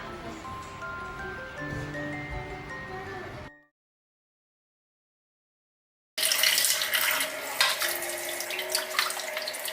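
Cut fish pieces are washed under a running kitchen tap, with water splashing in two bursts and a stretch of silence between them.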